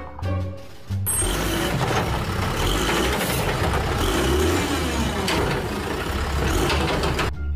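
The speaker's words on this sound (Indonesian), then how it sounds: "Wah, kita mendapatkan truk sampah." A garbage truck's engine rumbles steadily and loudly nearby, with a brief hiss like an air brake near the start.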